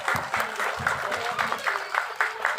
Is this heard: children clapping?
yes